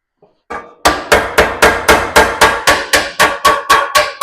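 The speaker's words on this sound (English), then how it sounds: "now we'll just use the body hammer to get a bit more on that" A body hammer strikes the metal fender of a 1970 Plymouth Duster in a steady, rapid series of about fifteen sharp, ringing blows, loud and close.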